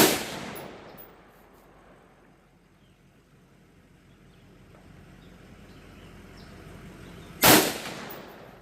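Two rifle shots of 55 grain ammunition fired at a target on a range, one opening the stretch and another sharp, loud crack near the end, with quiet between and no talk.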